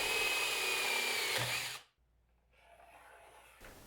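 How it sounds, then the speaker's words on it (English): A power drill with a 3/4 inch bit bores steadily and loudly into wood for nearly two seconds, then cuts off, leaving quiet rustling and a faint scrape. "Then I'm going to drill that out with a 3/4 inch bit."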